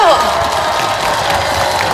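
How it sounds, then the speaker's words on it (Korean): A crowd at a seaweed festival concert in Gijang, Korea, gives a sustained round of applause, with dense clapping and some cheering that stays loud for the whole stretch. "박수 한번 보내주세요"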